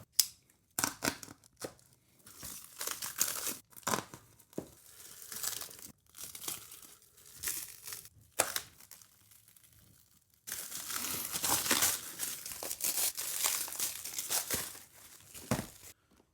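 Plastic wrap and packaging around a CZ P07 pistol crinkle and tear close up in repeated bursts, with rustling handling sounds and a longer continuous stretch of crackling wrap.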